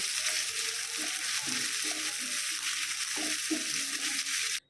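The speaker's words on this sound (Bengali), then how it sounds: "প্রথমে দিলাম রসুন কুচি ফোড়নে দিলাম শুকনো মরিচ কুচি আর রসুন কুচি দিলাম তারপরে দিলাম পেঁয়াজ কুচি দিয়ে এখন এগুলো ভেজে নিচ্ছি" Chopped garlic, dried chili and onion fry in a pan for a methi greens dish, with a loud, steady sizzle throughout and soft scraping stirs close by until it cuts off.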